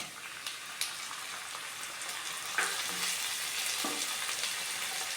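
Tomato and curry leaves fry in oil for cauliflower kurma, giving a soft, continuous sizzle with a few light clicks from stirring.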